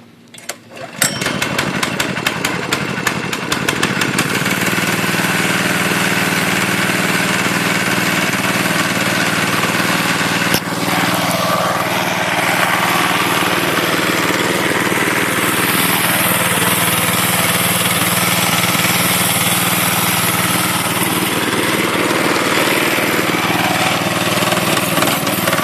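A small mini bike engine sputters to life after a pull start, then settles into a loud, steady buzzing run that carries on for many seconds, close to the listener.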